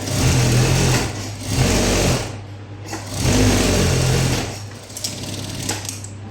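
A sewing machine runs close and loud while stitching a blouse sleeve, in several bursts of whirring with short slowdowns between them.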